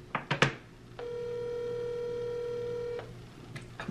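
A telephone call rings out while waiting for an answer: a few clicks and taps, then one long steady two-second ring tone, loud and close, followed by quiet.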